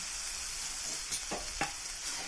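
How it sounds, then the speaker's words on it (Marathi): Curry leaves and finely chopped onion sauté in a pan with a constant soft sizzle, while a couple of stirring scrapes stand out briefly over the frying. "छान मस्त असं परतवून घ्यायचं."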